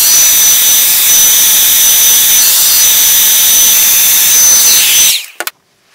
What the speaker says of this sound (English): So I have to go to the high setting, but you want to be careful too when you're doing this that you don't overheat it